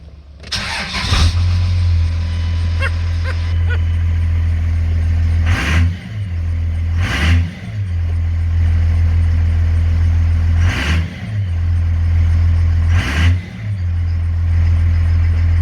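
A Cummins diesel engine cranks and fires up, then settles into a loud, deep steady run, broken by four sharp revving bursts spaced a couple of seconds apart. No talk is heard over the engine.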